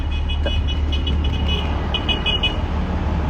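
A car pulls up alongside on a busy road and its horn toots in a quick series of short honks over steady engine and traffic rumble.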